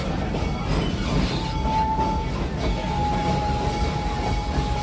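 The Serengeti Express train at Busch Gardens Tampa rumbles along with a steady low mechanical roar, rhythmic wheel clatter and a thin squealing tone, heard up close from aboard a car.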